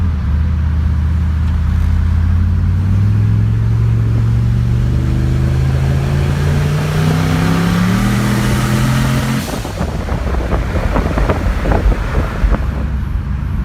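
Car engine after an ECU swap, running with an unusually quiet exhaust, pulling through rising, droning harmonics under heavy wind rush before the tone breaks off and rougher engine noise follows.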